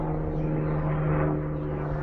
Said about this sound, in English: Wait for that helicopter to go by.